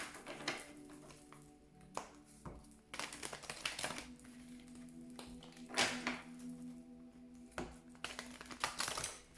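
Angel oracle cards are shuffled by hand in a quiet room, giving soft, faint tapping and riffling clicks in an irregular rhythm with no talking.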